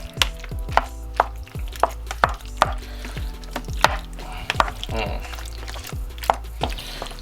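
A spoon stirs meatballs in a pan, giving repeated scraping and clinking knocks with sizzling underneath; the strokes come in an uneven rhythm, close and fairly loud.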